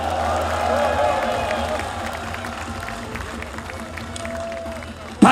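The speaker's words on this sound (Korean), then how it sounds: "박수를 보내줍시다" A rally crowd at an outdoor political gathering claps and cheers in a broad, distant wash of sound, fading slightly over several seconds before a sudden loud bump at the end.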